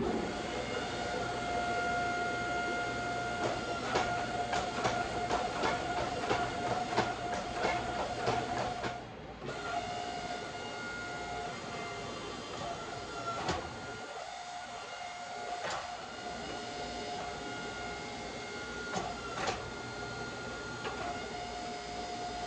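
A forging press hums steadily with a mechanical drone while squeezing a ladder Damascus steel billet through a half-inch square kiss block, with brief clicks and a short dip partway through, and no voices.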